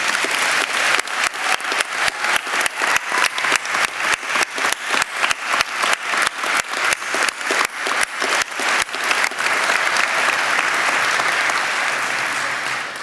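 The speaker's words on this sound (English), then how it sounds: "Let's give them a huge round of applause." At a graduation ceremony, a large audience applauds the tutors with a loud, sustained round of clapping, at first pulsing in a steady rhythmic beat, then dissolving into a continuous dense wash before easing off.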